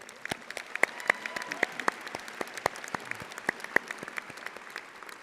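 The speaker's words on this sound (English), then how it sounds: "Please join me in a round of applause thanking the staff, faculty, and alumni of our school." An audience at a law school commencement ceremony applauds steadily, a dense wash of many hands clapping with a few louder nearby claps standing out, continuous and moderately loud.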